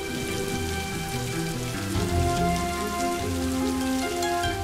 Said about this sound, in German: Heute Regen ist so schön